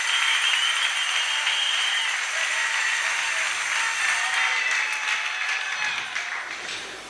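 A church congregation claps in acclamation, a steady wash of moderately loud applause that carries on for several seconds before thinning toward the end, with no talking.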